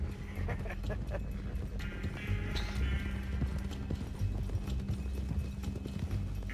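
Horse hooves clip-clop steadily at a trot in Red Dead Redemption 2 Online, close and continuous throughout, under occasional talk from players.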